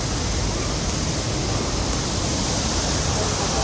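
Waterfall at Cascadas de Tamasopo, a steady, dense roar of falling water spread evenly across the whole stretch, loud and continuous with no breaks.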